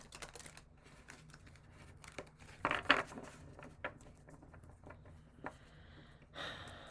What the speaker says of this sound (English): This deck doesn't like to be shuffled that way, and I hate to do it this way, but this is the only way I get a really good shuffle in.